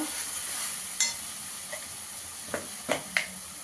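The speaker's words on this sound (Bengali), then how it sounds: "হাফ চামচ ধনের গুঁড়ো দিয়ে দেবো, কাশ্মীরি লঙ্কার গুঁড়ো দেবো। ভালো করে মশলাটাকে কষিয়ে নেব।" Spices with ground coriander and Kashmiri chilli powder sauté softly in a pan, a quiet sizzle broken by a few light clinks and scrapes of a spoon.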